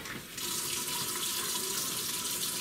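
Tap water runs steadily into a baking dish being filled for a water bath while Christmas dishes are prepared, a continuous splashing stream that starts abruptly and holds at moderate loudness, with no talk.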